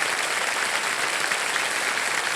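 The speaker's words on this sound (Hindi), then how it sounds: "और दिव्य संजय एक बार फिर जोरदार तालियां बज जाएं हमारे वर्ल्ड कप चैंपियंस के लिए।" A television quiz show studio audience claps for World Cup champions, a dense, steady wash of applause heard close and loud throughout.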